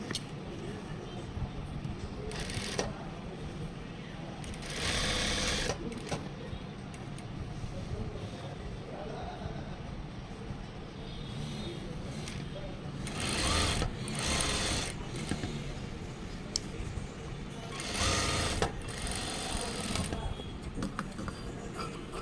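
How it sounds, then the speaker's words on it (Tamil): A sewing machine stitching a chudithar top, its steady whirring motor running throughout with several louder bursts, and a voice speaking at times over it. "உங்களுக்கு நான் தைச்சு காட்டுறேன், எப்படி எளிய முறையில் எப்படி தைக்கிறதுன்னு உங்களுக்கு காட்டுறேன்"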